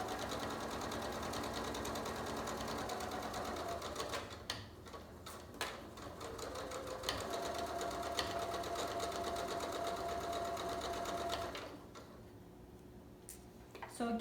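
A sewing machine stitches a fabric seam for pajama pants, a steady rapid whirring run broken by brief pauses and restarts, close and fairly loud, with a quieter stretch near the end.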